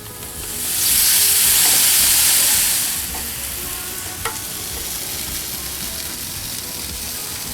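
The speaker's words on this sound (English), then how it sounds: "I'm going to grill this meat at the outside grill." Marinated galbi meat sizzles on an outdoor grill with a loud rushing hiss that flares in the first few seconds, then eases to a steady, even sizzle with a faint tap partway through.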